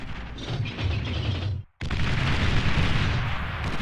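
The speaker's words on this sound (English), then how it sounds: "And our Eastern team explodes." Loud mechanical rumbling and explosion blasts as a team base is destroyed in Beyond All Reason, a dense roar that briefly cuts out, then resumes as a sustained blast with no talk.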